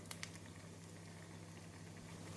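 Banana flower vada made from soaked chana dal fries in hot oil over a medium flame, a faint steady bubbling sizzle with light crackles, no talk.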